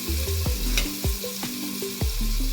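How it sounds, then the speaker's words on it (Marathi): Potato pieces fry in oil in a pan while being stirred: steady close sizzling broken by repeated scraping strokes of a spatula against the pan, about four in quick succession. "4-5 मिनिट मस्त गुलाबी कलर येईपर्यंत आपण तळायचं"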